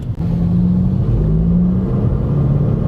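A VW Golf GTI driving in eco mode, a loud steady low engine drone and road rumble heard from inside the car, with a gently rising and shifting engine note.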